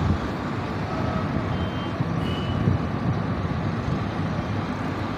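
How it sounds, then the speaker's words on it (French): Construction trucks at a BRT worksite in Yopougon–Bingerville, a steady reversing beep over a continuous rumble of heavy engines and road noise, with no talking. "Regardez-moi ces camions là qui font un grand boulot ici."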